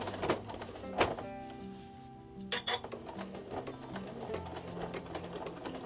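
A sewing machine stitches a seam through thick layered fabric on a surgical face mask, running in close, steady mechanical bursts with brief pauses and thumps, with no voices present.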